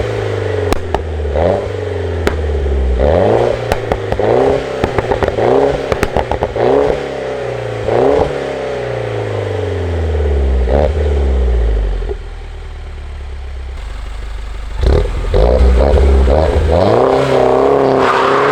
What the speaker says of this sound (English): the exhaust makes some really nice pops and crackles and bangs